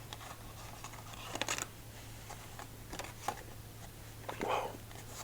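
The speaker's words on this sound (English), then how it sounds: "Casino shuffle time." Playing cards riffled in a casino-style shuffle during a long solitaire session, a few soft fluttering bursts and light taps close by against a steady low hum, no talking.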